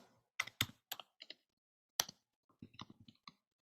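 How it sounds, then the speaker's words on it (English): Quiet, close clicking of keys on a computer keyboard, a short burst of quick taps, a pause, then another run of lighter keystrokes. "I am typing"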